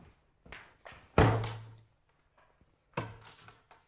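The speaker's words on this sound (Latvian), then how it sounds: "Un kāpēc tu blīkšķini durvis" A door slams shut indoors with a heavy close thud, preceded and followed by lighter knocks and bumps, one more solid thump near the end, with no talking.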